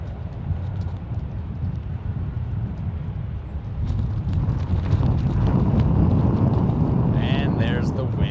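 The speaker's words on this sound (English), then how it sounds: "There's the famous San Francisco wind, causing the trouble as always." Gusty San Francisco wind buffets an outdoor microphone near an airport runway, a steady low rumble that swells louder midway and keeps roaring to the end.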